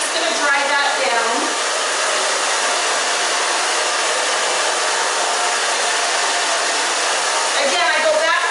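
A hair dryer blows loud and steady while drying hair for a short pixie cut, a constant close whoosh with brief shifts in tone as the airflow moves.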